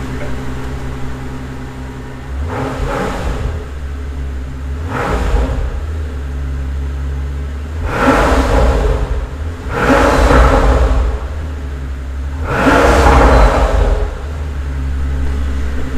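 Pagani Huayra Roadster engine idling with a deep rumble, then revved in four or five distinct swells that rise and fall over the steady idle, close and loud.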